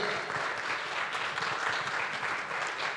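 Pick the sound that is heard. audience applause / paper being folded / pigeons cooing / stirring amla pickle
audience applause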